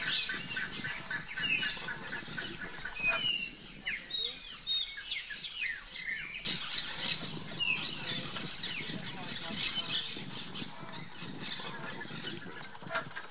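Many birds chirp and tweet in quick overlapping calls against a busy background, with some clucking mixed in, a lively outdoor chorus at moderate distance.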